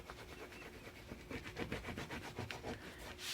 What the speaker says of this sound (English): You want to take your bone folder. You want to press down really, really well.